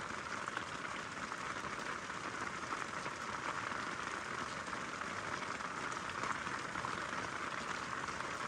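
Heavy rain drums steadily on the roof tent of a Land Rover Defender during a night camp in the Lake District, a dense, unbroken hiss and patter lasting throughout with no voices.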